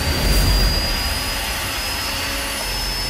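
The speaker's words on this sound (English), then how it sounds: "The piece of machinery that mixes air with fuel and turns it into the power that lights up lives and drives growth around the world." A GE HA gas turbine running, heard as a loud, steady broadband roar with a thin high whine, continuous and unbroken with no talk.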